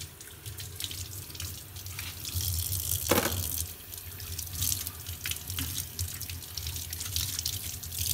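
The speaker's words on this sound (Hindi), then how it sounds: "इन गाजरों को अब हम अच्छी तरह से धो लेंगे।" Carrots being washed under a running kitchen tap, water splashing steadily into the sink for several seconds, close and continuous, with a brief louder gush partway through.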